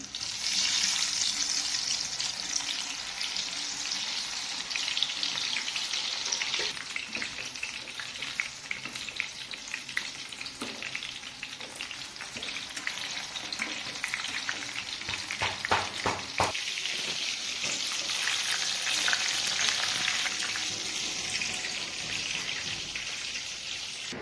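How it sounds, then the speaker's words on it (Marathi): Soybean chunks frying in hot oil for soybean chilli: dense, rain-like sizzling crackle that runs on steadily, with a burst of sharper spatter midway, close and without speech. "आता त्यामध्ये सोयाबीन टाकायचं तळायला."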